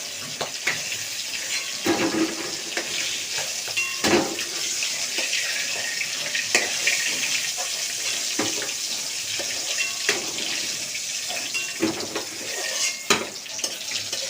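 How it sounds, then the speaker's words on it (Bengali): Steady crackling sizzle of whole hilsa fish, heads on, frying red in oil in a pan, with occasional clinks and stirring sounds, close and continuous, no voices. "দেখো বন্ধুরা মাছগুলো আমার ইলিশ মাছগুলো আমার লাল লাল করে ভাজা হয়ে গেছে"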